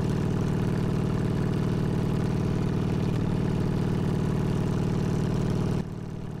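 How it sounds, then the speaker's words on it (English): A Harley motorcycle fitted with Vance and Hines Short Shots exhaust idles nearby in a steady, loud, low-pitched loping pulse that runs unbroken. It drops abruptly to quieter near the end, with no talk. "The Vance and Hines, the short shot pipes."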